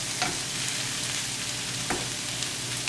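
Onions and celery fry in butter with a dense, even sizzle, while occasional stirring scrapes and light clicks of the utensil cut through the hiss.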